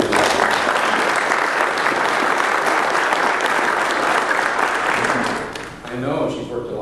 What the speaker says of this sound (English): I think all of us should give her a round of applause